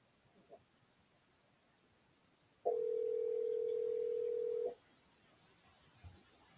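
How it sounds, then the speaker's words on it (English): A telephone tone sounds while calling in by phone, a single steady electronic hum lasting about two seconds against a quiet room hiss, with faint small noises before and after. "Let's call George and he can participate from the phone."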